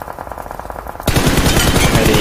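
Weapon fire in a glitching video game, starting as a muffled rapid rattle and then jumping to a loud, unbroken machine-gun stream that continues to the end.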